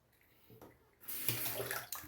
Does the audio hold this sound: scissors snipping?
no